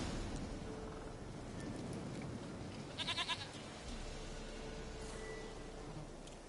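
A goat bleats in The Witcher 3: Wild Hunt, giving a short, wavering cry partway through over a steady rumble of rain-like game ambience.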